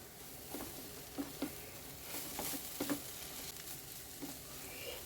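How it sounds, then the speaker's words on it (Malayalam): Spices being mixed into a banana flower cutlet mixture, heard as a few soft, quiet scraping strokes in an uneven rhythm against a hushed kitchen background. "ഒരു കാൽ ടീസ്പൂൺ കുരുമുളക് പൊടി കൂടി ചേർത്ത് നന്നായിട്ടൊന്ന് ഇളക്കിയെടുക്കാം"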